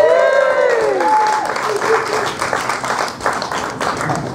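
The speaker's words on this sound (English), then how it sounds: "Let's hear a cheer for Diana and Ray." Wedding guests at the speeches burst into loud cheering and whooping with dense applause, voices rising over the clapping at first, then the clapping carries on steadily and fades a little toward the end.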